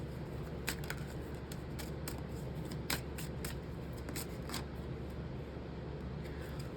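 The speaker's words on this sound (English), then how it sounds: "This is my Angels of Abundance Oracle deck, and I'm going to take a few cards." An Angels of Abundance oracle card deck is shuffled by hand, giving a series of quick, light papery riffles and taps, close and fairly quiet, with no voices.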